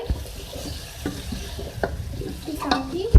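Chopped bottle gourd is stirred into cooking chana dal in a pan, with repeated scraping spoon strokes over a soft sizzle and wet, sloshing movement, close and clear, with no talk.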